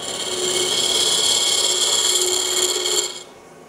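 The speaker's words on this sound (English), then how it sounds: "A detail that I like is to hollow out in here and take some wood out." Woodturning tool hollowing the inside of a wooden kitchen canister on the lathe, a steady scraping whir with a high shimmering edge, close and even, cutting off sharply near the end.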